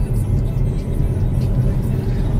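Vauxhall Corsa engine accelerating, heard as a steady, loud, low droning roar from inside the car that holds an even level throughout.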